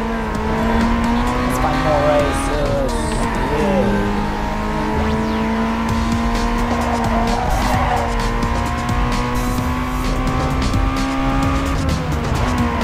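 A Honda car racing in Need For Speed Underground 2, a loud continuous engine drone with shifting pitch and sustained tire squeals through turns, while a person talks over the game sound.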